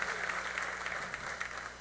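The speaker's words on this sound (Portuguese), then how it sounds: "Pode aplaudir ao Senhor" A church congregation applauds, a continuous, moderately loud patter of many hands clapping with a low steady hum underneath.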